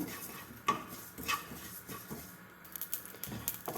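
Cumin seeds dry-roasting in a pan, faint scattered clinks and scrapes of a spoon stirring against the metal, with light patter between the strokes, quiet and close with no voices.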